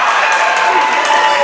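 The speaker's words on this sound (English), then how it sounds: "The crowd is very upset here because they believe that Clay Hardy had traveled first" Crowd noise fills a high school varsity boys' basketball gym, Portland versus Gorham, a steady dense roar of voices and scattered clapping from upset fans, loud and continuous throughout.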